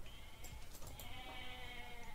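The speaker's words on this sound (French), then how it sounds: "Et là on récupère quelques chèvres." Goats bleat in the video game Age of Mythology, a few short, faint bleats over quiet game background sound.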